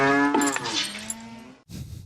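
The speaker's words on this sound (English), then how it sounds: "early morning cow milking wasn't what John had in mind" A cow lets out a long, loud, low moo on a farm in the early morning, then a short rougher bellow after a brief pause.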